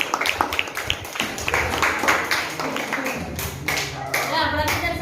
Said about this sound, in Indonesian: Beri tepukan untuk Aisyah